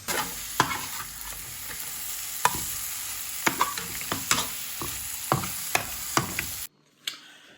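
Quail curry lightly frying in a pan, a steady sizzle broken by repeated sharp scrapes and clinks of stirring, close and fairly loud before cutting off near the end.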